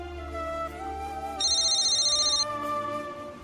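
An electronic mobile phone ringtone plays a bright, rapidly pulsing ring for about a second over a soft musical background in a Hindi TV drama scene.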